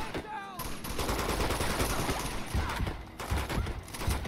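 Gunfire in the video game Uncharted 2: Among Thieves: dense, continuous volleys of rapid shots from several guns crackle and thump close by, with a brief voice at the start.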